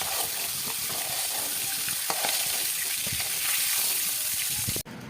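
Fish frying lightly in hot oil in a pan, a dense steady sizzle close up with occasional crackles, continuing alone before a brief break near the end.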